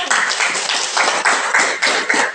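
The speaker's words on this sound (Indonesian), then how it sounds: "tepuk tangan dulu untuk kelompok 1" Classroom applause for a student group after their presentation, several people clapping in irregular bursts that swell and fade, fairly close and alone without talk.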